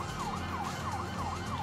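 Emergency vehicle sirens in Grand Theft Auto 5 wail in a steady rising-and-falling cycle, about four sweeps in under two seconds, over a low engine and road rumble, with no talk.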